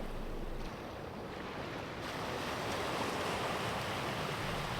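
Surf rolls in at Revere Beach in Boston as a steady, soft wash of breaking waves with some wind rumble against the microphone. There are no voices.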